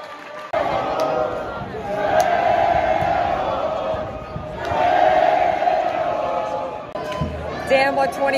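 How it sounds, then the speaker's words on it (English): Fremantle Dockers fans chant in a crowded stadium during a West Coast versus Fremantle football game, their voices rising and falling in two long, swelling waves over a steady crowd roar. "the Freo chant is already starting"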